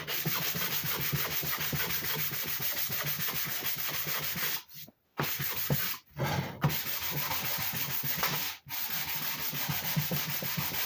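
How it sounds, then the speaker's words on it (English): Steady hand sanding of wooden edges with sandpaper on a homemade 40 Ah power bank box, continuous close scratchy rubbing strokes with a few brief pauses, no voices. "I'm just going to hand sand all the edges and make them nice and smooth"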